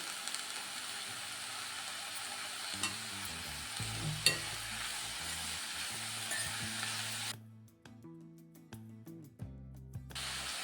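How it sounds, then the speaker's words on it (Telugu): Potatoes frying with cabbage in a pan, a steady close sizzle with stirring scrapes, dropping away after about seven seconds to quieter crackling and occasional clinks. "దీంట్లోనే మనం ఆలుగడ్డ కూడా వేసేసుకున్నామండి."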